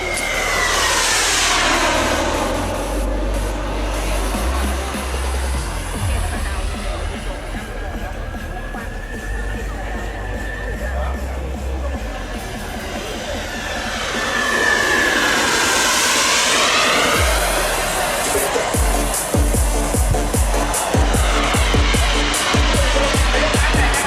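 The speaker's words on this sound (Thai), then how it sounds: "ดูเสียงตัดอากาศนะครับ" A jet-like whine swells and fades as a CARF-Models Diablo 3D model jet aircraft passes close by, then roars loudly again, with a steady rushing hum throughout.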